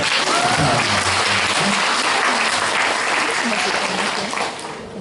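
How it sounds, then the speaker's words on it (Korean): Audience at a Yonsei University Korean language institute event gives a loud, dense round of clapping that holds steady throughout and begins to fade in the final moment. "이럴 때도 어색하지 않게 박수 한번 주세요"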